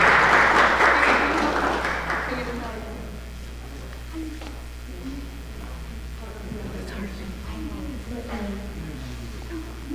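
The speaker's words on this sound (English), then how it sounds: "A round of applause again, everybody." Applause for spelling bee contestants at a school district competition: a dense burst of clapping for the first few seconds that fades away, followed by talking.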